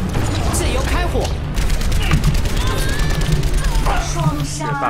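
Rapid gunfire rattles on and off in an Overwatch match, layered with game effects and shouted voices close over the shooting.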